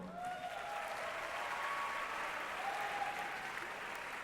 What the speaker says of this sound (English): Can we also give a round of applause to them as well?